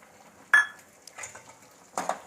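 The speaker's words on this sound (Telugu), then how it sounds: "ఎండుమిర్చి కూడా కొంచెం లైట్ బ్రౌన్ కలర్ వచ్చే వరకు ఇలాగ కలియపెడుతూ వేపుదాం మంచిగా" Dried red chilies stirred and dry-roasted in a pan for curry leaf spice powder: a few sharp scraping clinks of a utensil against the pan, spaced apart over quiet gaps.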